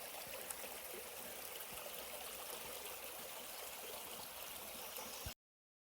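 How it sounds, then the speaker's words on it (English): Creek water flows through a pond or swamp area on the Appalachian Trail, a faint, steady trickling stream heard alone, which cuts off abruptly near the end. "Either way, there's water coming through here."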